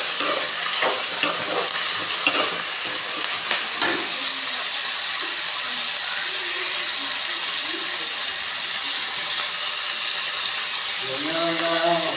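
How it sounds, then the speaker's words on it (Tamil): Vegetables salted and sautéing in oil for a home-style sambar give off a steady frying sizzle and hiss, with occasional stirring scrapes and no talk over it. "உப்பு சேர்த்து கொஞ்சம் எண்ணெயில் வதங்க விட்டுக்கலாம் காயை."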